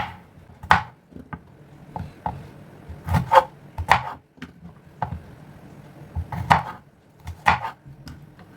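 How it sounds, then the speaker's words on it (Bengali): Vegetables are chopped with a knife on a board in a home kitchen, making a series of sharp, uneven taps with brief pauses between strokes, heard close and alone. "ততক্ষণে সবজিগুলো কাটবো।"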